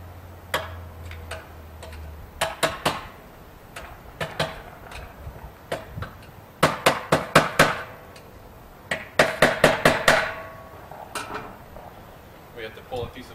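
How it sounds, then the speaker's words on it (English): A screwdriver is struck with a hammer to punch knockouts from a metal electrical box. It gives sharp metallic taps, close and fairly loud, in irregular bursts of rapid strikes separated by short pauses. "I usually take a screwdriver and punch out around the holes"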